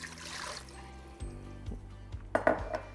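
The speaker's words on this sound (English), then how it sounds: "We're just gonna add a cup of water to the bottom." A cup of water is poured into the bottom of an Instant Pot over a trivet, a brief splash and trickle followed by a few light metallic clinks, close and fairly quiet.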